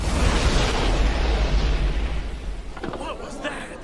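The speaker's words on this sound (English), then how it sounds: "Did either of you hear something like an explosion?" A loud anime explosion effect gives a sustained deep rumbling roar that slowly fades, with faint crackling debris toward the end.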